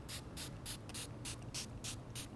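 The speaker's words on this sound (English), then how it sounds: "Now Caitlin's applying the PK Peel neutralizing spray" Neutralizing spray is applied to skin in a quick series of about eight short hissing bursts from a pump bottle, close and evenly spaced over a low background hum.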